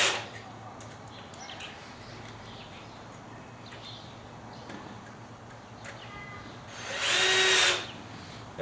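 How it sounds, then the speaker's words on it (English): A power drill drives screws into aluminum U-channel on a gate frame, first faint brief whirs, then one loud sustained burst near the end, with birds chirping faintly outdoors. "we attach that to the gate uprights with a couple screws top and bottom"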